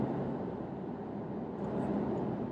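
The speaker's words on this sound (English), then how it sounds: "you can hear the tire noise" Continuous broadband rumble of tires rolling on pavement, steady and enveloping, like road noise heard from inside a moving 2019 Isuzu D-Max 1.9L diesel pickup.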